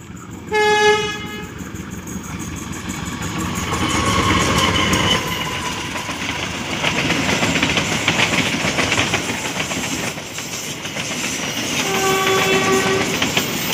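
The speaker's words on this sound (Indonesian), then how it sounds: "nah ini dia kereta api Serayu dari stasiun Pasar Senen menggunakan lokomotif CC203" A Serayu passenger train hauled by a CC203 locomotive passes close and loud, with a sharp horn blast at the start, rumbling wheels and clickety-clack through the middle, and a second horn toot near the end.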